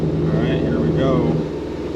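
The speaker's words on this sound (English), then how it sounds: "Got it started. Gonna let it run for a little bit." A Shelby GT500 V8, freshly rebuilt after a bent compressor pulley, runs steadily just after start-up, with a loud continuous engine drone and a low rumble throughout, and a voice speaks over it.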